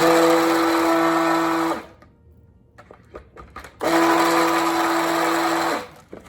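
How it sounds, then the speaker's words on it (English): A stick blender whirs through cold process soap batter, mixing in colorant: two steady, loud bursts of a few seconds each, separated by a short pause filled with faint clicks and handling noises. "So let me get this color blended up."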